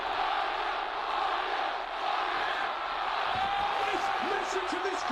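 A big arena crowd at a live Knicks versus Spurs basketball game roars in a loud, continuous wash of cheering and shouting, with an announcer talking over it.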